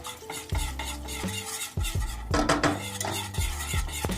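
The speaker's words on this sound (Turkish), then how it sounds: "Topaklanmaması için telimizle sürekli çırpıyoruz." A wire whisk beats milk into toasted flour in a pot, with steady scraping and clinking strokes that run continuously over a faint sizzle, close and fairly loud.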